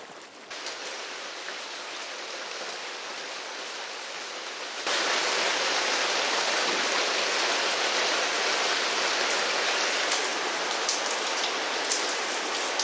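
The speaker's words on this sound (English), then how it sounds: "Suddenly, heavy storms arrive, and the mountain home faces a massive test." Heavy rainstorm pounding down on a mountainside home site, a dense steady hiss that swells sharply louder about five seconds in and then roars on without letup, with no voices.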